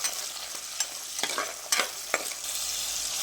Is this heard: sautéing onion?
yes